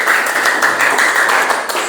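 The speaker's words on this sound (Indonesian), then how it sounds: "Tepuk tangan buat teman kalian yang sudah menyimpulkan." Classmates in a classroom give a short burst of dense, steady applause, many hands clapping together close by for about two seconds with no talking over it.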